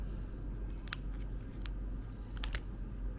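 A Schmincke Horadam 12 half-pan metal watercolor box is opened in a quiet room, giving a few faint, sharp metallic clicks and light scrapes over a low background hum.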